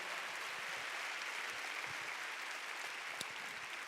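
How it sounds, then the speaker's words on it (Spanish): A church congregation claps loudly during a Spanish-language sermon, a dense, continuous roar of applause that holds steady throughout, with a sharp single clap standing out near the end. "Dale un fuerte aplauso a la palabra del Señor"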